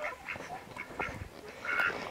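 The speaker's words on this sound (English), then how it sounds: "Don't ask me how the duck got in there." A duck on a homestead quacking several times in short bursts, close and moderately loud, with a longer call near the end.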